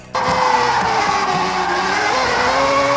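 A car drifts in Forza Horizon 6. A loud engine holds its pitch as the tires squeal continuously throughout the slide, with faint crowd noise underneath.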